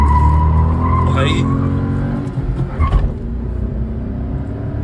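A Renault Kiger turbo car launches and pulls away, its engine note climbing with a brief tire chirp, while a voice speaks over the run.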